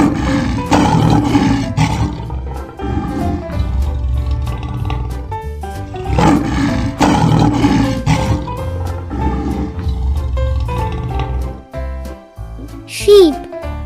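A lion roars in deep, powerful bursts, two long rolling roars each trailing into grunts, loud and close, with a brief high voice near the end.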